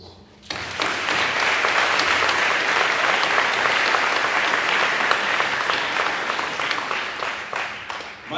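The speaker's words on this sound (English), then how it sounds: "I would like to give you individuals another round of applause" An audience at a community salute event gives a round of applause, dense clapping that starts suddenly and holds steady for about eight seconds.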